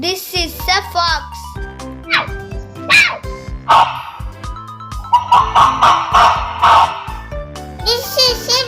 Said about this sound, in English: This is a fox.